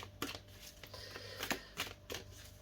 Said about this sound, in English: Just going to do 2 more shuffles.